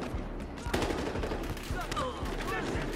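Gunfire during a multiplayer heist match in the video game Battlefield Hardline, a dense burst of loud shots and rattling fire crowding the whole moment, with several sharp impacts standing out above the continuous din.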